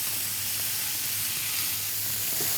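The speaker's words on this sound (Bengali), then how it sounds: "আমরা আচ্ছা একটুখানি ভাজা ভাজা করছি।" Fish fries in a pan of hot oil on a kitchen stove, giving a steady, even sizzle and hiss throughout with no voices over it.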